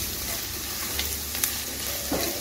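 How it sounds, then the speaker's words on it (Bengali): Onion, ginger and garlic sauté over low-to-medium heat in a pan, a soft continuous sizzle with a few sharp clicks of a spatula stirring, close and moderate in level. "এখন 2 মিনিট আমি কষিয়ে নিচ্ছি পেঁয়াজের সঙ্গে, আরও 2 মিনিট"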